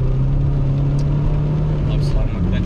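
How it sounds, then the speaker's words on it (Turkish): An Alfa Romeo 159 climbs a steep ramp, its engine a steady low drone heard from inside the cabin, loud and continuous for a few seconds with no voices. "Şimdi mesela önümüzde dik bir rampa var. Orada deneyeceğim aracı."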